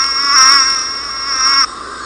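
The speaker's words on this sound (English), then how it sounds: "Here we have a wasp, very typical noise." A high, steady buzzing drone with a slight wavering pitch, loud and close, cutting off sharply near the end.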